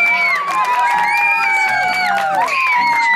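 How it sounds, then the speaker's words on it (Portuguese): Crowd at a children's party in Cangaíba, in São Paulo's East Zone, cheering loudly with high shouts and whoops over a dense hubbub, continuous for about three seconds. "Una salva de palmas, galera."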